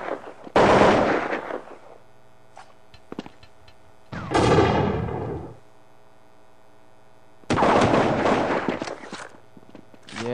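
Gunfire from the game Counter-Strike in a WCG 2002 grand final match, heard as three loud, sustained bursts separated by quieter gaps with brief faint clicks between them.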